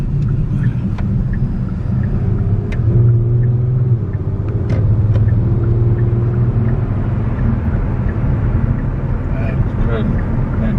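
A 2019 Kia Stinger's turbocharged engine pulls hard under acceleration onto an interstate, a steady low cabin drone with rising harmonic tones, heard from inside the car.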